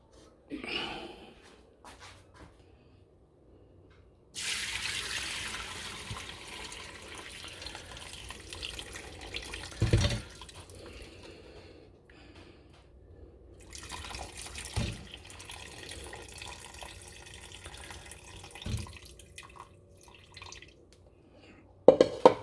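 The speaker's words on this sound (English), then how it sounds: "I'm gonna strain this off now in the sink and go from there." Pineapple tea being strained into a kitchen sink, a steady close rush of pouring water with a few splashy surges and drips, no talking.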